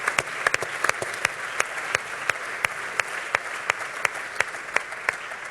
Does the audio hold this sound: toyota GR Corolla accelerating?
no